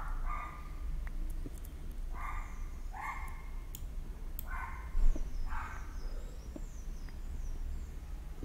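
A dog in the Minecraft video game barks in short repeated yips, five or six evenly spaced barks, fairly close and clear over a low background hum, with faint clicks between.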